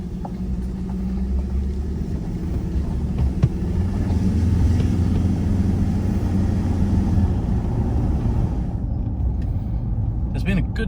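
A four-wheel drive vehicle heads onto the dirt 309 Road in Coromandel, New Zealand, with a steady, loud engine and tyre rumble that drops away near the end.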